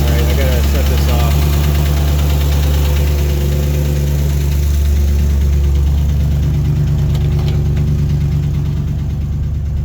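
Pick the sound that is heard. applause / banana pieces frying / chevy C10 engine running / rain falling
chevy C10 engine running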